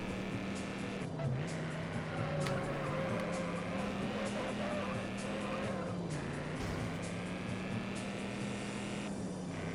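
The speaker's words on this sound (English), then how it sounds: "she kind of spins out a little bit, but then she gets it back under control" A car in the racing video game Juiced drones along at steady engine pitch, briefly skidding and spinning out before recovering, with tire noise and revving under a constant, loud in-game mix.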